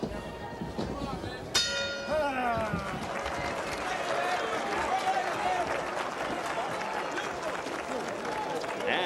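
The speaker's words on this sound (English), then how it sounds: "We head for the bell." A boxing ring bell clangs once near the start of a bout in the Evander Holyfield vs Dwight Muhammad Qawi rematch, ringing over a loud, steady arena crowd roar with announcers talking throughout.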